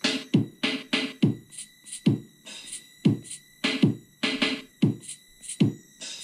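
A homemade digital drum machine running on a Teensy 3.5 chip plays a swung beat in 3/4 time: repeating kick and hi-hat hits in a loping pattern with a faint high whine behind, moderately quiet.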